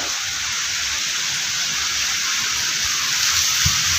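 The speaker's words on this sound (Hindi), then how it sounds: "बारिश खुल के बरस रही है।" Heavy monsoon downpour pouring steadily in a thick, even hiss of falling water, loud and close, with no voices.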